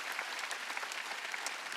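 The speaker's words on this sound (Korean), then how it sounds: "박수 치려면 세게 치라고." Church congregation clapping steadily and loudly during a Wednesday worship service, a dense continuous wash of many hands with no voices on top.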